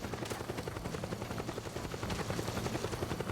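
Helicopter in the video game Metal Gear Solid 4, its rotor thumping in a steady, fast rhythm over dense rumbling noise, with faint gunfire-like bursts mixed in throughout.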